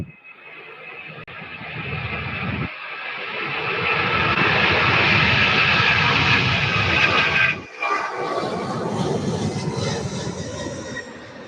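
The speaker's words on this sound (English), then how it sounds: "Mirage F1 fighter jet" A Mirage F1 fighter jet passes over Louisville SDF airport, its roar swelling from a distant rumble into a loud, sustained blast, then abruptly dropping before a harsher, receding whine.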